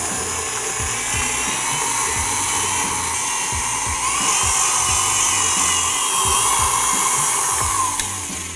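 An electric hand mixer beats an egg into cake batter with a continuous high whirring motor, joined by rhythmic knocking of the beaters against the bowl, loud and close with no talking.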